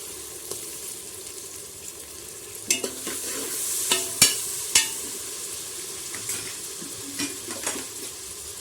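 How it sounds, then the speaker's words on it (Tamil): Soft sizzling of tomato and coriander sautéing in a pan with scattered clinks and scrapes of a utensil stirring, no voices. "கொத்தமல்லி இது எல்லாத்தையும் போட்டு நல்லா வதக்கணும்"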